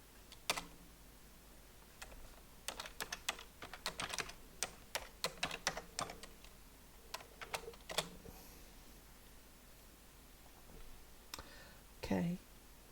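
Fast bursts of crisp keystrokes tap on a computer keyboard while typing a root SSH login to an Ubuntu server in a terminal, then pause with a faint voice near the end.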